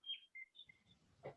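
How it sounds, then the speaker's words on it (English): A bird outside a window gives several short, high, clear chirps, faint and separated by brief pauses, with a low murmur of background noise near the end. "Hear that bird?"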